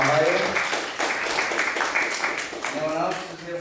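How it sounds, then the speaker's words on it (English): An audience at an ISKCON Sunday class claps in a round of applause, a steady wash of hand claps that fades slightly toward the end, with a voice speaking over it at the start and finish. "Let's give a round of applause for this wonderful world from Ohio."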